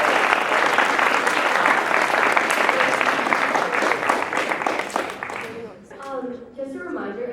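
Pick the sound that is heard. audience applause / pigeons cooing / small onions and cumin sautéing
audience applause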